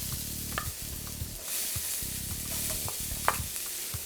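Garlic sizzles in a steel paella pan, a steady hiss with occasional scrapes and clinks, alongside a repeating low mechanical hum that switches on and off; no one speaks.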